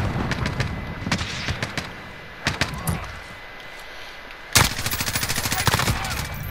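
Rapid bursts of gunfire from Call of Duty Modern Warfare team deathmatch crack out in uneven volleys, sharp and loud near the start, then a dense sustained automatic burst near the end.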